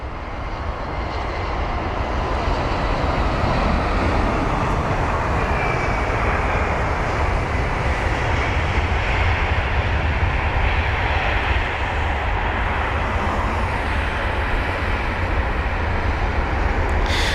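A British Airways Airbus A320ceo with retrofitted sharklets arrives at London Heathrow near runway 27 left. Its engines make a steady, broad roar that holds at an even level throughout, with no voices.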